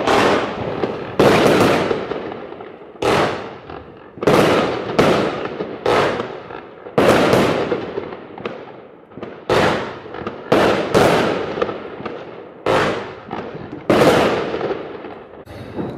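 Racing Courage fireworks going off on New Year's Eve, a rapid series of about a dozen loud, sharp bursts in an irregular rhythm, each crack trailing off with a short echoing tail.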